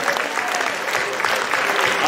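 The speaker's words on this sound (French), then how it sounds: "Applaudissons le Seigneur pour ses dons." A church congregation claps steadily and continuously at moderate volume during a charismatic worship service, a dense, even patter of many hands.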